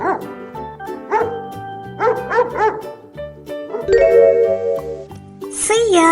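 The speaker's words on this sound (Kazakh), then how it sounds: "Ит." A cartoon dog barks in a few quick bursts, with yips and a whimpering tone, set against a light plinking children's melody and chime-like notes, loud and close.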